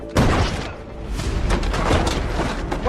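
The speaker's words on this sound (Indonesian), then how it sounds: "tiba-tiba Sarah menembak Joe dan untungnya tembakan itu meleset dan hanya mengenai bahunya" A gunshot in the 2012 film Looper, where a farm woman fires at a man: a sharp, loud bang at the start, followed by further thuds and rumbling movement in the film's soundtrack.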